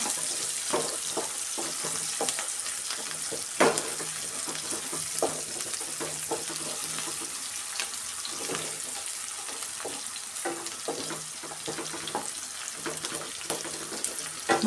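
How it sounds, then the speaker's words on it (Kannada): Green peas and cashews fry in oil in a pan, a continuous close sizzle broken by frequent soft scraping and stirring clicks that come at an irregular rhythm throughout. "ಹಸಿ ಬಟಾಣಿಯನ್ನು ಹಾಕಿ ಈ ಥರ ಚೆನ್ನಾಗಿ ಫ್ರೈ ಮಾಡ್ಕೊಬೇಕು"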